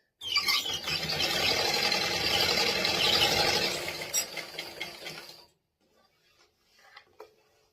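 A domestic sewing machine stitches a picot edge on fabric, a steady close mechanical whir for about five seconds that then slows and stops, leaving faint clicks.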